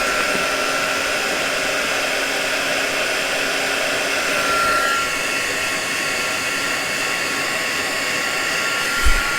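Embossing heat tool blowing hot air on a steady, loud, close whooshing drone that runs unbroken throughout, with a brief thump near the end.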